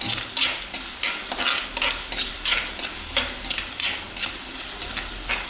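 Sliced onions with salt sizzling in a pan on a Kerala-style stove, stirred in a steady rhythm of scraping strokes over a constant loud frying hiss, close and with no talk.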